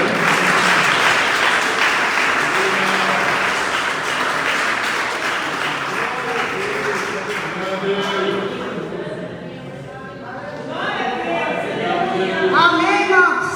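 A church congregation at a women's deliverance and prayer service breaks into sustained applause, loud and dense at first, thinning slightly midway, then swelling again toward the end, with voices audible among the claps.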